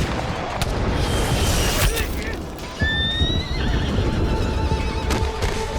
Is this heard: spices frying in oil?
no